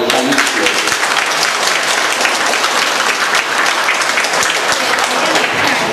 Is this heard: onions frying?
no